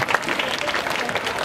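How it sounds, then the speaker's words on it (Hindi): A crowd at an event breaks into loud applause, dense continuous clapping that holds steady throughout without anyone speaking. "तो अभी जोरदार तालियों से पूरी भावना से"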